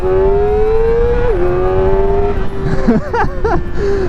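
A Kawasaki Ninja ZX-4R inline-four screams at very high revs, a loud, sustained tone that steps between gears, then dips and blips up and down in quick bursts near the end.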